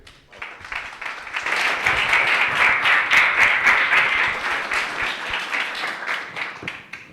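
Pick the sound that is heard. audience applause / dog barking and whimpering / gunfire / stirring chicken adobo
audience applause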